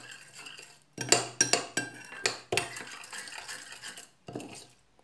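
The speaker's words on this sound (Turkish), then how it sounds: "Karıştırayım." A utensil stirs a slime mixture in a bowl, making a series of close, sharp clinks and scrapes in an irregular rhythm. The stirring has pauses between bursts and no one speaks.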